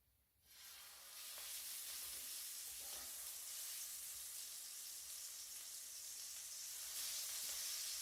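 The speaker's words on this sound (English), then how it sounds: "this should really sizzle." Deer backstrap and bacon hit a hot woodstove and break into a loud, steady sizzle that hisses and crackles without letup.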